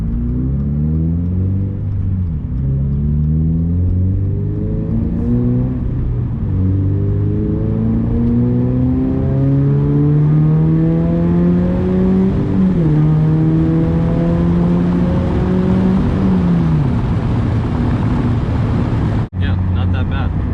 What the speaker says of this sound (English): It sounds like a Subaru, it's not too loud, it's probably pretty loud on the outside.